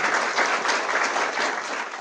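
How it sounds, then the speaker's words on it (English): An audience applauds steadily at an ethics forum conversation event, a dense, even wash of many hands clapping that fills the room, with no voices over it. "And let's have an applause."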